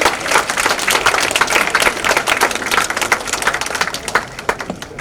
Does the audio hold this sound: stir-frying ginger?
no